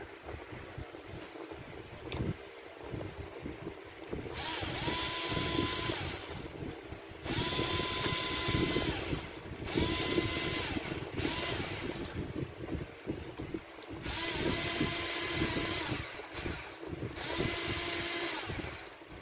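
An electric screwdriver whirs in several separate bursts of a few seconds each as it drives screws while RC car shock absorbers for a Losi and Traxxas UDR are adapted. Each burst has a steady motor whine over background rustle.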